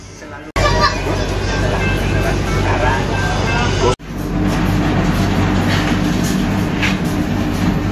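The Argo Cirebon train departs Cirebon Kejaksan station, heard from inside the rearmost economy carriage as a loud, steady rail rumble and rattle that continues across two abrupt breaks.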